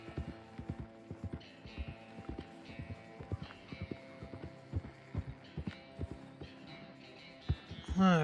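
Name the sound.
horse hooves in a video game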